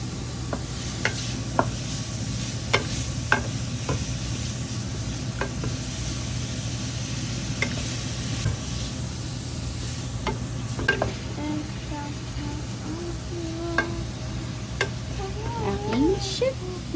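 Pancit noodles stir-fried with carrots in a home kitchen, with steady sizzling and scraping stirs against the pan, scattered clinks, and people talking and a voice over it.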